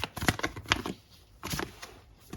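Tarot cards being shuffled by hand, quick riffling bursts of papery flutters in two clusters separated by a brief pause, close and clear.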